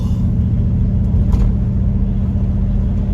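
A burbling V8 engine in the Stag, heard from inside the car while driving, a steady low rumble running throughout with no talk over it.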